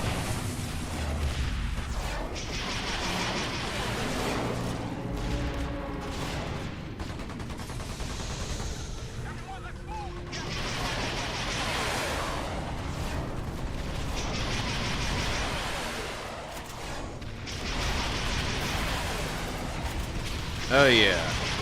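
Missile explosions and heavy weapon fire in the video game EDF: Insect Armageddon, a dense continuous barrage of booms and mechanical rumble layered with bursts throughout, loud and close, with someone talking over parts of it.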